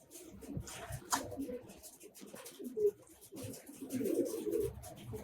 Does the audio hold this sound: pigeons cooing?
yes